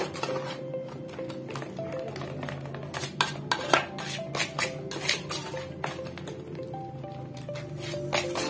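Carp bait mixture being stirred in a bowl with banana mixed in, a quiet scraping and clinking of a utensil against the bowl with irregular taps that grow busier toward the middle.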